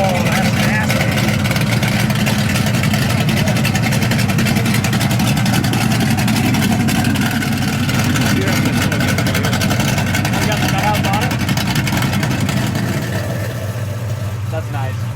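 A 496 big-block engine, bored and stroked from a 454, in a classic car at an Iowa car show, rumbling loud and close with a rough, steady idle and slight swells in revs, while voices talk over it.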